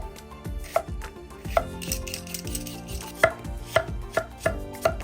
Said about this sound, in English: Chop the tomatoes for the lomo saltado dish.